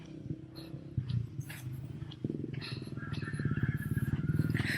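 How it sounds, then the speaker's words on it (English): Motorbikes pass near the parking area of San Vicente Marine Sanctuary in the Philippines, engines puttering and rising to a louder close drone, with voices talking over them. "But you still can see loads of motorbikes other than tricycle picking up passengers"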